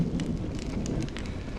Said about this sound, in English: You're lucky to have found shelter from the rain